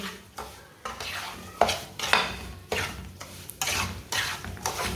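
A spoon scrapes and stirs semolina and dry fruits roasting in a pan for egg suji halwa, in steady repeated strokes with a light dry sizzle, close and loud, with no talk.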